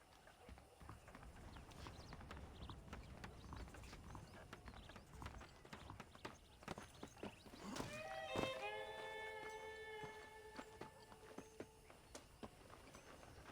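Horses' hooves clip-clop at a steady, quick pace in the video game Red Dead Redemption, with a whinny mid-way, faint and under background ambience.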